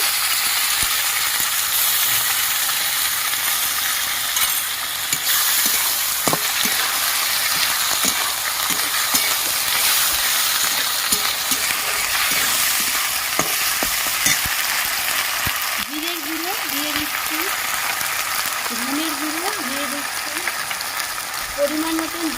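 Ginger-garlic paste sizzles steadily in hot oil alongside chopped tomato for egg pulao, a dense continuous frying hiss with scattered stirring clicks and scrapes throughout, loud and close.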